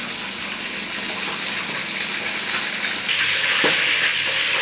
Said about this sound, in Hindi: हमारी तमाम फिश हाफ फ्राई हो चुकी है।